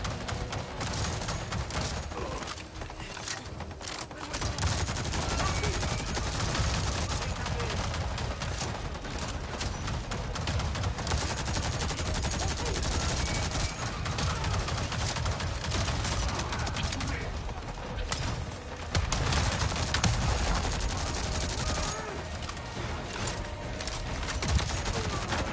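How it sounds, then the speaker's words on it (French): Continuous gunfire from the Avatar Frontiers of Pandora video game, a dense, steady barrage of shots running the whole length with few breaks, under occasional speech. "Je sais pas où je tire, mais je tire."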